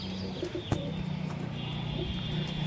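Dhanyabala pigeons, a female and her breeding pair, coo softly in low rolling bursts close by, steady and continuous, with a faint higher chirp or two behind them and no voices.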